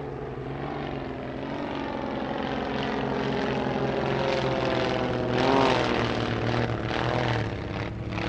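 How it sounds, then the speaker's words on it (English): A Zlin 50 aerobatic propeller plane of Czechoslovakian design flies at an airshow in Leszno, its engine droning loud and steady throughout, with a rising swell near the middle as it passes close. "The aircraft is the Zlin 50, another machine of Czechoslovakian design."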